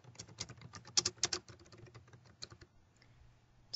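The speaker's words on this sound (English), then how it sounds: "let's type the title of a book that we're looking for." Quiet, close keystrokes on a computer keyboard as a book title is typed into a library catalog search, a quick irregular run of clicks that thins out toward the end.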